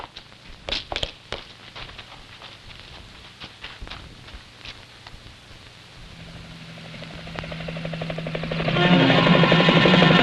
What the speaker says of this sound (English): The helicopters are ready. They'll be here soon.